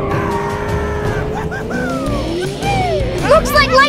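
Animated Lightning McQueen race cars rev and squeal their tires in sweeping, gliding tones, with a burst of skidding squeals near the end, layered under voices and background music.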